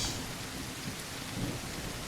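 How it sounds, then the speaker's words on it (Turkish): Steady rain pours down in a continuous broadband wash in the video game Last Guest, with low rumbling swells underneath, constant and fairly loud throughout. "Yağmur yağıyor arkadaş"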